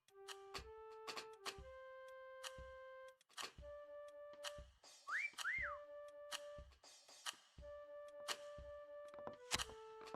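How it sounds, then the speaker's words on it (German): Whistling in the video game Meccha Chameleon comes as short, clear tonal notes and a couple of rising and falling slides, mixed with scattered thuds and beeps from the game. "Auf B pfeift noch einer umeinander"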